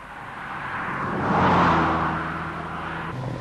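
An MG Montego Turbo climbs a hill in fifth gear, giving a steady engine drone and road roar that swells to a peak midway and then eases, with no talk over it.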